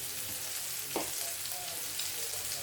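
A chicken mixture sizzles and fries steadily in a hot pan, with a brief stirring scrape partway through, close and continuous with no talking.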